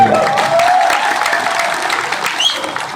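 A crowd at a public gathering claps steadily, a loud, sustained wash of applause with faint voices and whistles mixed in.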